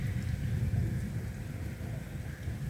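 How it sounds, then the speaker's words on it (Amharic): Steady rain falling during a thunderstorm, a dense continuous hiss over a deep low rumble, moderately loud and unbroken for a few seconds, with no voices. "እና ዝናብ እየጣለ ነው።"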